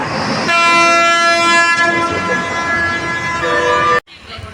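A train sounds its horn at a station, a loud sustained toot of nearly four seconds over rolling wagon noise, cutting off abruptly near the end.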